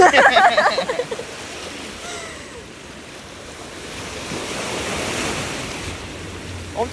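Ocean waves wash onto a beach in Busan, a steady hiss of surf with wind buffeting the microphone, strongest in the opening second and then a softer, continuous rolling wash.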